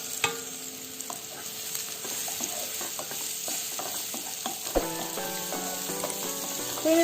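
Small pieces of ripe plantain fry in a pan with a steady, soft sizzle, while a spoon stirs and scrapes against the metal in scattered clicks throughout.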